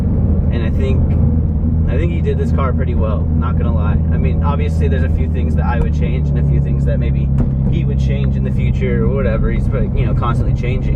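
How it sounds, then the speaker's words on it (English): Exhaust of a slammed Subaru BRZ while driving, a steady loud low drone with engine rumble running throughout, under continuous close talking from someone inside the car. "I think my favorite part about this car is probably the exhaust"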